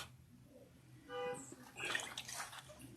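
Running water splashes as a facial scrub is rinsed off a face, quiet at first and then a louder burst of splashing and trickling close by.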